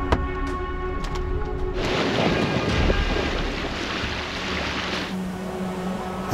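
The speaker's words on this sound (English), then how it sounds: "Rain squalls and white tops came rushing in." Wind and rain squalls of a North Sea winter storm rush over a sailboat, a broad roaring hiss swelling loud and close against a low background rumble, with no voices.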